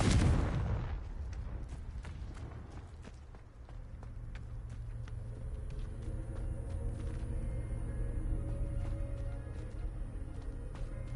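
In Hogwarts Legacy, the Confringo fire spell bursts with a sharp, loud blast at the start, followed by a lingering rumble and scattered faint crackles and thuds.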